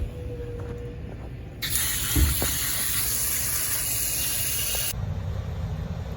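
A steady hiss of water spraying hard onto the metal coil of a Carrier HVAC condenser, close and loud, starting abruptly and cutting off after a few seconds.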